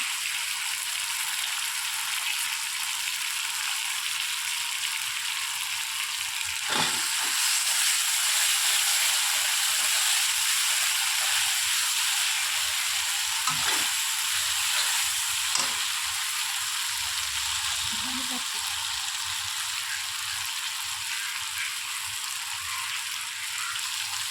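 Chopped peas frying in a pan for an egg omelette curry, giving a steady, loud hiss and sizzle throughout with a few brief stirring knocks and scrapes, no talking.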